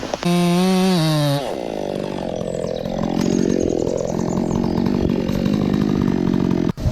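A chainsaw screams at high revs, then drops into a lower, labouring drone as it bites into a leaning tree, running loud and continuous until cutting off abruptly at the end.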